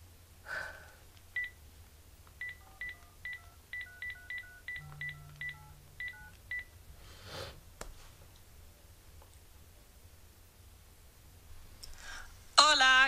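Touch-tone keypad beeps ring out as a telephone number is dialed in a music theatre showcase, about a dozen short, evenly spaced tones, followed by faint clicks and quiet background noise.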